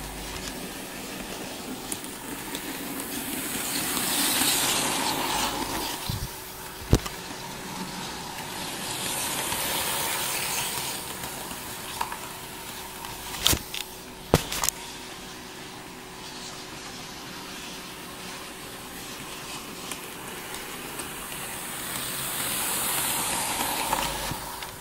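A Hornby Princess Royal Class model steam locomotive runs along its layout with a continuous hissing, swelling and fading as it passes, and a few sharp clicks from the track.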